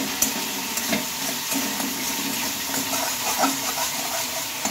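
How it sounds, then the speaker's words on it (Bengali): A paste of ground ginger, cumin and coriander sautés in a pan for a spinach and chana dal dish, giving a steady, moderate sizzle with occasional soft stirring clicks throughout. "বাটা মশলাটা দিয়ে একটু ভালোভাবে এটাকে কষিয়ে নিতে হবে।"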